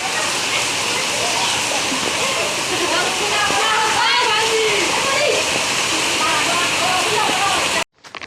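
Heavy rain pours down outdoors in a village while water splashes and spills, making a loud continuous wash that holds steady before cutting off abruptly near the end, with voices talking underneath.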